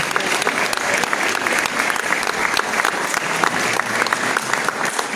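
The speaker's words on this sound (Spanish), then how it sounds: "lo recibimos con un aplauso." Church congregation applauding during an Easter Sunday communion service, dense continuous clapping from a large group throughout, close and loud, with no talk over it.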